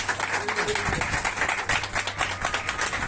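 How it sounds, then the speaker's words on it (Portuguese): A crowd at a bonsai contest closing ceremony claps, with brisk, fairly loud applause throughout and a faint voice briefly underneath. "ganhou uma salva de palmas"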